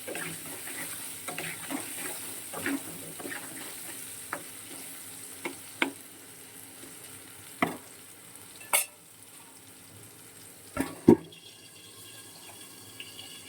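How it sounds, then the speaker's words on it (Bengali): Potatoes fry in a pan with a low, continuous sizzle, broken by sharp scraping and knocking stirs of a spatula every second or two, close by and without speech. "এবার আলুটাও খুব ভালো করে ভাজা হবে।"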